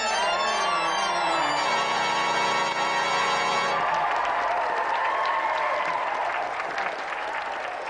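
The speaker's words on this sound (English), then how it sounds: "round of applause for Tony" A studio audience at a TV game show claps steadily, first over a short musical sting, then as a continued round of applause.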